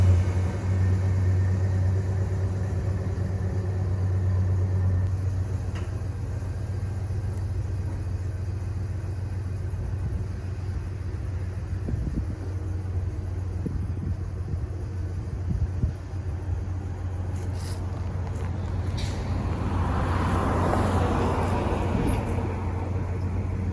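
A pickup truck just back from a front end rebuild pulls out for a test drive. A steady low engine rumble runs throughout, with a louder rise near the end.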